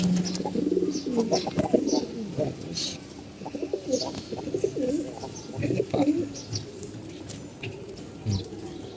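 Pigeons coo repeatedly in low, throaty rolling calls, several birds overlapping nearby, with rustling and faint chirps in the background.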